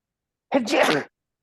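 A single short, sharp sneeze, close and alone, lasting about half a second.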